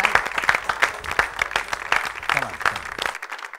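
An audience claps warmly to welcome guest Seema Ghazal onto a TV show set, a steady burst of overlapping handclaps with sharp individual claps standing out, sustained for several seconds.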